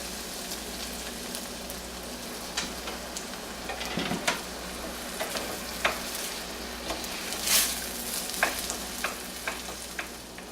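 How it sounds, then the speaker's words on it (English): Risotto sizzles in a pan as a cream and milk mixture is poured in and stirred, a steady crackling fry broken by scraping spoon strokes and soft splashes. "now we're going to start adding our cream and milk mixture, about a half of a cup at a time"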